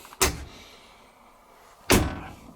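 An LG ECO Dry 8kg heat pump condenser dryer door pulled open by hand, giving two separate close, sharp thunks about a second and a half apart over a quiet background.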